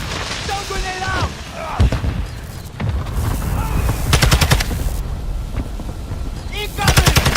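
Call of Duty MWII battle with bursts of rapid gunfire and a mortar strike, loud bangs and crackling shots repeating over a dense combat din, with faint game voices underneath.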